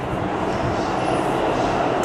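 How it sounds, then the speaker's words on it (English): A New York City subway train arrives with a loud, steady, broadband rushing rumble that fills the whole stretch without a break. "Oh, is that our train?"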